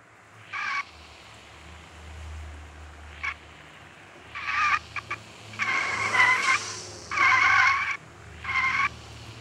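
A sports car in Sakura School Simulator pulls out, with repeated short tire squeals and skids over a low engine hum, loud and close, without talk.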